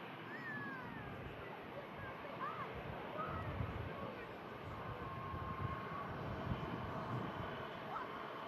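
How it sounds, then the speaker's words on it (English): An Airbus A330 on final approach to Manchester Airport during Storm Lilian: a distant, sustained engine roar blends with gusty wind noise, and faint voices sit underneath. "Final couple of 100 feet now for this 330, and then it'll be back on terra firma here at Manchester."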